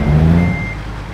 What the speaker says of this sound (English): Reverse bay parking an articulated lorry.